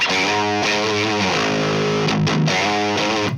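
An electric guitar played through a Neural DSP Mesa Boogie Mark IIC+ amp with the bright switch pulled, ringing out a distorted, sustained lead phrase of a few held notes, close and loud with no talking.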